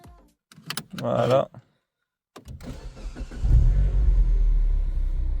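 Mini Cooper S R56 starting with a key: a brief voice, a pause, then the starter cranks and the engine catches into a loud, steady close-up idle rumble.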